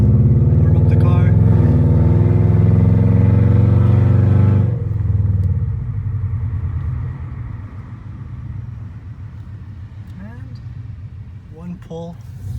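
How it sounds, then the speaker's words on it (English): A Subaru engine runs at a loud rumble, then drops to a steadier, quieter warm-up idle. A few faint higher sounds appear near the end. "Alright, I'm just gonna heat up the oil, warm up the car."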